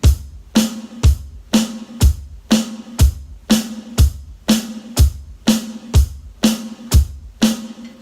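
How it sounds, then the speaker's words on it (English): Steady rock drum groove on a kit, hi-hat struck on every beat with bass drum and snare alternating underneath, played cleanly and evenly with no talking. "I'm hitting the hi-hat and the snare drum together on beat 2."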